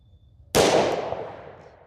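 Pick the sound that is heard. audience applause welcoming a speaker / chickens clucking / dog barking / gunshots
gunshots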